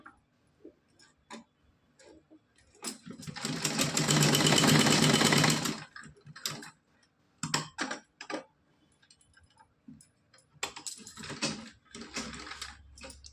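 A sewing machine stitching a cotton dress trimmed with gota patti, running in a loud continuous burst of rapid stitching, then stopping and restarting in shorter clattering runs with pauses between.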